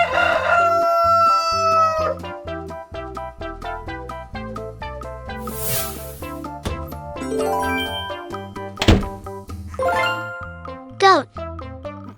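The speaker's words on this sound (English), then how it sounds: "Rooster." A rooster crows among jingly children's music, with a voice speaking between the sounds; the crow itself is hard to pick out from the busy melody.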